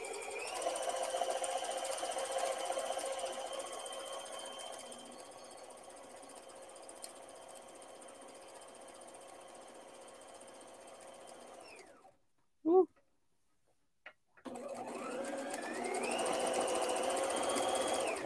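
Sewing machine doing free motion embroidery on a shirt collar runs fast in a steady whirring drone, drops briefly to silence with a couple of clicks, then whirs back up to speed.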